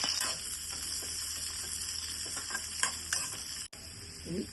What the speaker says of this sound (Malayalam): സവാളയും വെളുത്തുള്ളി പച്ചമുളക് കരിവേപ്പില എല്ലാം കൂടി ഇട്ട് വാട്ടുക